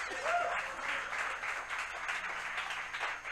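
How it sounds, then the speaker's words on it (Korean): Church revival-meeting audience applauding an interpreter, a steady wash of many hands clapping at moderate distance throughout, with a faint voice briefly under it. "우리 통역 한 번은 박수를 주세요."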